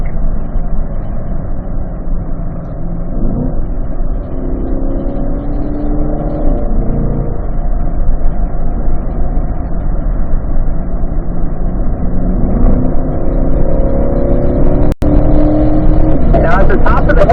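A 2020 Corvette Z51 runs on the track at Spring Mountain Motorsports Ranch, its engine a steady loud drone heard from inside the cabin, pitch shifting slightly with throttle, while a person talks over it throughout.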